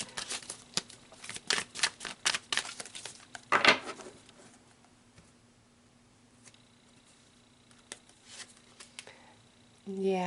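Tarot cards are shuffled and drawn by hand, with a quick run of close riffling, flicking taps, a brief rasping slide, then quiet handling and a soft thump at the end, with no talk.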